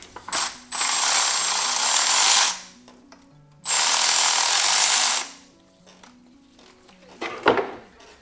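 Impact or ratchet tool bursts on the oil filter housing bolts of a Mercedes G500 W463, two long loud buzzing runs of about two seconds each, close up, followed by quieter clicks and handling noises.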